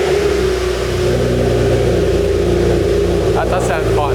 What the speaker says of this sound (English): I want to play the volume of the engine.